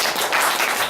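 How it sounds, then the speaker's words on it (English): Audience applause at a Toastmasters meeting for the second speaker, a steady dense wash of clapping from a crowd throughout. "please applause for the speaker number 2"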